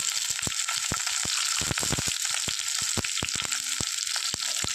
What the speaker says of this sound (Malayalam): വെളുത്തുള്ളി ചേർത്ത് കൊടുക്കാം പച്ചമുളക് ചേർത്ത് കൊടുക്കാം